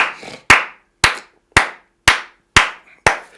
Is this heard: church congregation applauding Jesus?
yes